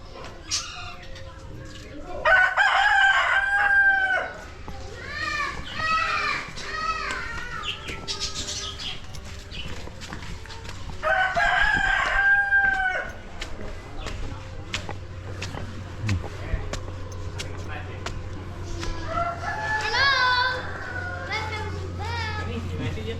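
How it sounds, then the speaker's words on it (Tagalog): A native chicken rooster crows several times at a distance over an outdoor background of chattering voices, children playing and birds chirping. "yung kanyang native na manok"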